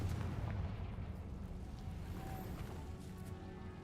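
Bombarda and Confringo explosion spells in Hogwarts Legacy land as a low, rumbling boom with a sustained blast-like roar that fades slowly, no voices over it.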